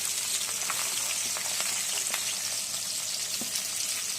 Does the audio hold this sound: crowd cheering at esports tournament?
no